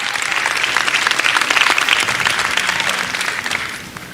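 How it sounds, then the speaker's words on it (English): A large summit audience breaks into loud, dense applause that holds steady for about four seconds before starting to thin out. "Let's give a loud clap to these guys here"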